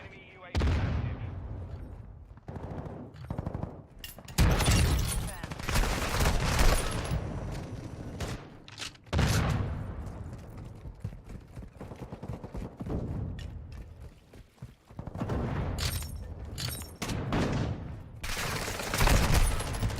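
Shotgun fire in the shooter Modern Warfare 2, heard as heavy, loud blasts in clusters with short gaps between, along with other battle noise and someone talking over the action.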